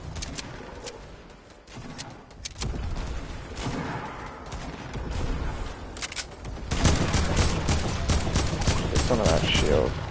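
Heavy assault rifle in a shooter video game fires in rapid bursts, dense close crackling shots that grow louder and more continuous in the second half.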